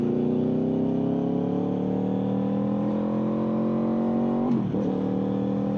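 Steady engine drone of a blue manual Toyota Supra driving past, a smooth rising tone as it accelerates, then a brief dip at a gear change before the drone resumes, no talking.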